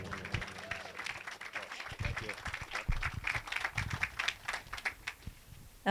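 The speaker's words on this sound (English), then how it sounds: "a big round of applause for our head coach, Sara Tisdale, everyone." A crowd at a groundbreaking ceremony for a Florida State women's lacrosse facility breaks into applause, scattered claps building into steady clapping with some cheering mixed in.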